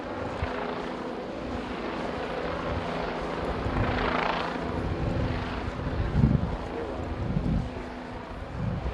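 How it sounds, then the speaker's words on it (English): Low, steady rotor drone of a police helicopter hovering overhead above a cleared city park protest area, fairly distant and continuous with a slight swell midway, no talking. "helicopter presence up there"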